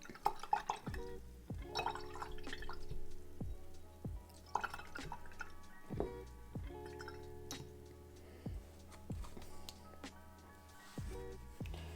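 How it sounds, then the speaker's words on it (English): A paint mixing brush is swished and rinsed in a water container while gouache painting, giving repeated soft drips and light glassy clinks at a steady irregular pace, close and quiet, with no talk. "Let's wash this mixing brush up a little bit."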